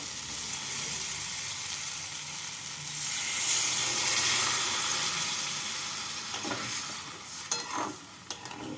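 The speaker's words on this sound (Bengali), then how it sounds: "এবার এর মধ্যে দিয়ে দেব পরিমাণ মতো জল" Water poured into a hot pan while cooking bhaja chhanar dalna, fried paneer curry, sets off a broad, steady sizzle and hiss that swells midway, with a few stirring scrapes near the end.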